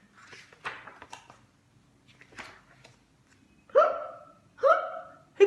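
Voiced hiccup sounds for a kitten in a children's story reading, two sharp, loud gulps near the end after quieter breathy noises; a human voice imitates the kitten's hiccups.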